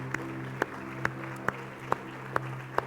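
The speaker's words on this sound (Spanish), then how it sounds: "Dale palmas al Señor." Rhythmic hand clapping from a church congregation, sharp even claps about twice a second keeping time over sustained music, with no talking.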